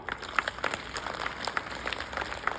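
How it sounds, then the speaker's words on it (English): An audience claps for a singer in scattered, moderately faint claps spread over a couple of seconds, sounding like a small group in a room. "So clap to her."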